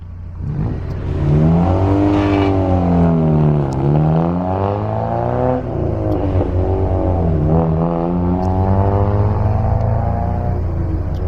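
Loud, close Honda Civic engine with its muffler removed, revving hard in repeated pulls, pitch rising and falling twice with a raw, unmuffled roar and steady idle rumble underneath.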